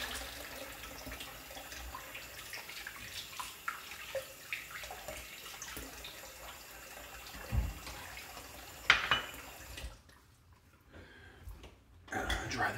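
Tap water runs into a kitchen sink as pork is rinsed under it, a steady close splash with brief clatter, stopping near the end.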